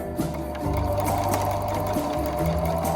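A sewing machine stitches a seam in pinned fabric, its motor running in a steady rapid hum across most of the clip with a brief pause and restart, loud and close.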